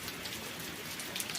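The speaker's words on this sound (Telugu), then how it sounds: "వారం రోజుల నుంచి కూడా ఈ వర్షం వదులుతలేదండి" Heavy monsoon rain keeps pouring, a dense, even patter of drops striking surfaces, continuous and fairly close, with no voices over it.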